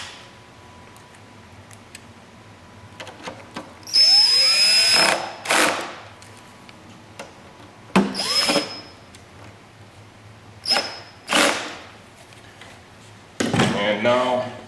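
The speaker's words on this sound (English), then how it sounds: "Let's go ahead and snug up the bolts that retain the fuel tank." Motorcycle fuel tank bolts are snugged up with a power tool in several short whirring bursts separated by pauses, with faint ticks and handling noises in a quiet workshop.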